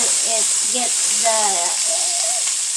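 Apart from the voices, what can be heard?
vegetables sautéing in a pan for curry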